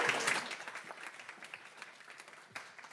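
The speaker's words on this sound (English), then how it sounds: "can we get a round of applause for Zendesk" A meetup audience claps steadily in a sustained round of applause for a sponsor at a UX event, dense and continuous with a brief swell near the end.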